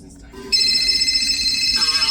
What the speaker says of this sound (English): this daggone phone